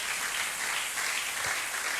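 A church congregation applauds the Lord during a French-language service, a dense, steady wash of clapping from many hands filling the room without a break.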